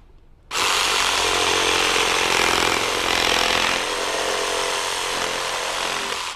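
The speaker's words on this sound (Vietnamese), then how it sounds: "một máy cưa lọng bình thường thì chúng ta gạp xuống như thế này và chúng ta cắt thôi ha" A Worx jigsaw starts abruptly and runs at a steady loud whine as it cuts, a continuous buzzing saw drone that holds for several seconds without any talk over it.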